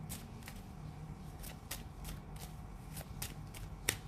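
Tarot cards shuffled by hand in a quiet room, a run of soft, crisp riffling bursts repeating every half second or so with a sharper snap near the end, close and faint, no voices.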